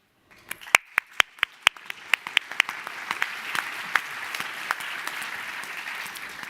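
Audience applause at a panel discussion, opening with a few sharp separate claps that quickly build into steady, moderately loud clapping from a mid-sized crowd.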